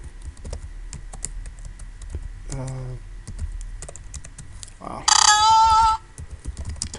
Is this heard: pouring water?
no